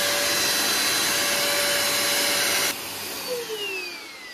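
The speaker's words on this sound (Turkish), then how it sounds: "Süpürdük evi bitti." A household vacuum cleaner runs loud and close with a steady whining drone, then the pitch drops and the motor winds down as it switches off near the end.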